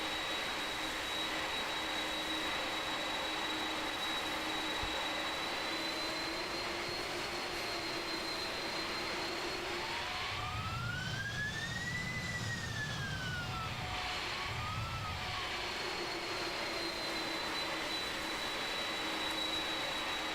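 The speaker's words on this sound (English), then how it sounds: "Why is the engine surging like this? It was just jumping up and down." Simulated Boeing 767 jet engines taxi in Microsoft Flight Simulator 2020, giving a steady whining drone. Midway the engine surges, its pitch rising and falling twice before settling back to an even hum, with no voices.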